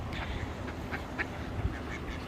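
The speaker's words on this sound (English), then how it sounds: "look at these ducks swimming away from me." Ducks swimming away across open water, heard outdoors at moderate distance as a few scattered quacks and short calls over a steady background hiss and low rumble from a person walking steadily.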